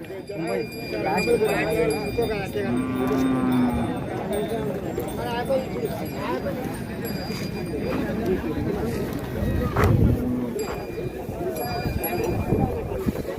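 Busy cattle market ambience at Maddur with bulls for sale: many people chatter and talk nearby while occasional animal calls and low bellows rise out of the crowd noise.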